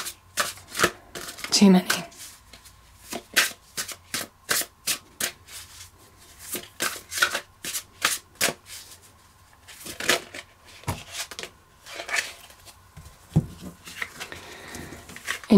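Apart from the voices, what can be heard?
shuffling tarot cards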